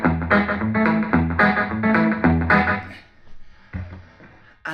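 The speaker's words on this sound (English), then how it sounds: "I'm just using the built-in echo on a small amp at the moment" Rockabilly finger-picked electric guitar played through a small amp with built-in echo: a run of bright, rhythmic picked notes and chords with repeating echo trails, then a fading ringing tail and a final struck note.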